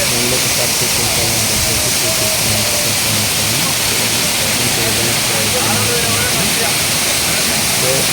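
A waterfall at the Umamaheswara temple after heavy rain roars as a loud, dense, continuous rush, while a voice talks faintly beneath the noise.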